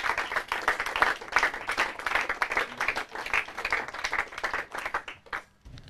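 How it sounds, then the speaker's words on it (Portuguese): A studio audience claps for a team in a Portuguese quiz round, producing a continuous mid-level patter of many hands that thins out and stops near the end. "Palmas."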